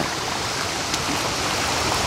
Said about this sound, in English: You can see some almost like white water going through there.